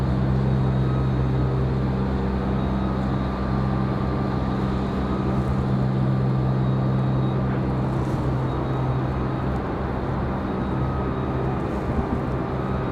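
An Envoy airliner taxis at Raleigh-Durham International Airport, its jet engines giving a steady, moderately distant roar and hum with a constant whine that holds level for several seconds, with no talking.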